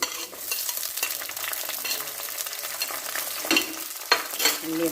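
Chopped onion and ginger fry in hot oil for a fish curry, a dense close sizzle with occasional stirring scrapes and brief clatters, no voices.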